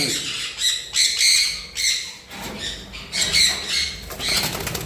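Sun conure breeding pairs in an aviary give loud, harsh squawks in repeated overlapping bursts, with wing flaps mixed in, close by and filling the whole stretch.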